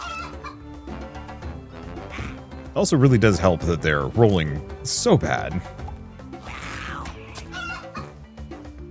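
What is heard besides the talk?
chicken clucking in Dobbel Dungeon video game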